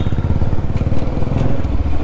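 A motorcycle at a Delhi petrol pump during refuelling runs with a loud, close, rapidly pulsing engine rumble, steady for about two seconds with faint clatter and no talk.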